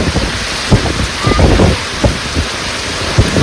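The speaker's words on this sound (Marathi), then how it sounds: "बेकार पाऊस आलाय." Heavy rain hammering a sheep shed, a loud continuous roar with sharp irregular thumps and bursts of drops and gusts standing out over it.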